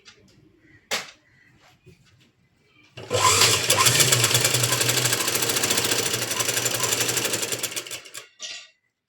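A sewing machine runs steadily for about five seconds while stitching a hand joint on a garment, loud, close and continuous with a rapid mechanical chatter, after a few soft clicks and handling sounds and before a brief final burst.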